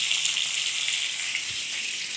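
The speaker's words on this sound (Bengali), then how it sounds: "দেখো ভাজা করে নিচ্ছি" Steady, close sizzle of food frying in hot oil in a wok (kadai), a constant bright hiss with no pauses and no voices.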